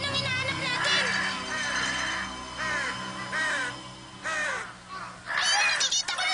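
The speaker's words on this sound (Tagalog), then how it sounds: "Ang daming uwak!" Many crows caw harshly in a cartoon scene, with repeated loud caws overlapping in bursts while a voice talks in Tagalog over a musical background.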